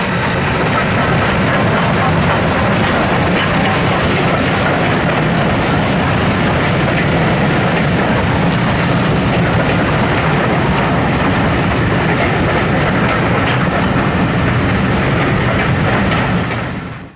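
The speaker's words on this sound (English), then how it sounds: "46521 passes by with the 2:45 p.m. Leicester North to Loughborough service." Steam locomotive 46521 hauling the 2:45 p.m. Leicester North to Loughborough service past Quorn & Woodhouse on the Great Central Railway, a loud, continuous rumbling roar with faint rail clatter that holds steady for about seventeen seconds before cutting off.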